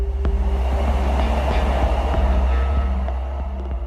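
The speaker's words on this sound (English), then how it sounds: "As the bullet train hurtles out of Tokyo" A bullet train speeds out of Tokyo with a loud, steady rumble and faint rhythmic clicks from the wheels running continuously.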